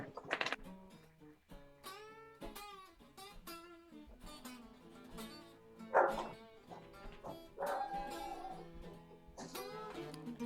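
A pet dog indoors at home barks, yips and whines in a series of sharp, uneven bursts over about ten seconds, some loud and close, with quieter whimpers between.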